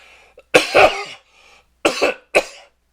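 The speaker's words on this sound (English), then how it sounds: "Sorry about coughing on you." A person nearby coughs loudly several times in separate harsh bursts, with short pauses between them.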